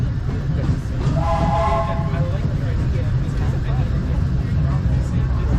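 Disney park train rolling along its rails at night, a steady loud rumble of wheels with a brief whistle-like tone, under a recorded announcement voice.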